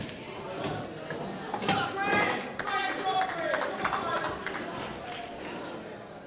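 A crowd breaks into a short burst of applause after a great shot at a men's teams final billiards match, with clapping swelling and fading under a commentator's ongoing talk.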